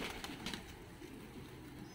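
Georgian fighting pigeons coo in Tbilisi, soft low throaty calls repeating under a faint background hum, with a little rustling.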